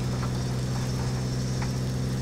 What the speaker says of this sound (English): Oh, that knock in the engine.